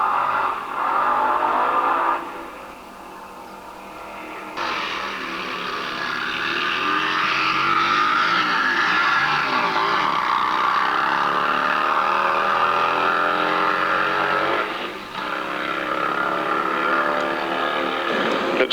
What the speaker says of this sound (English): Colin takes on a wheel-standing Derek Metcalf in his TR2 dragster